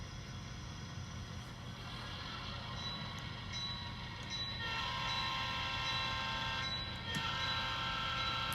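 A steady, low rumbling hum of a model train running along its track, with a constant whine and faint clicks, no talking.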